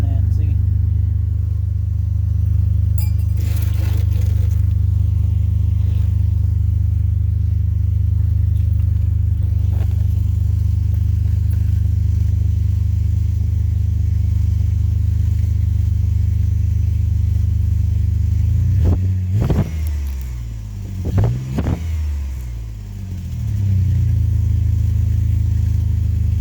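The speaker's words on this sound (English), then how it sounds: "Some gas in it and see." A 2002 Jeep Liberty with a newly replaced muffler idles in a loud, steady low rumble, then revs in two brief bursts near the end.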